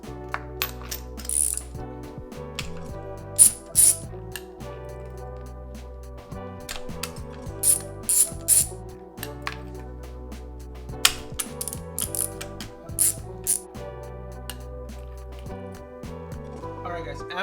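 A ratchet wrench clicks in quick bursts while spark plugs are taken out of a Nissan KA24DE engine, the sharp pawl ticks coming close and clear between pauses, with a voice speaking at times.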